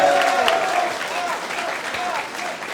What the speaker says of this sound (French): Donc vous pouvez l'applaudir très fort.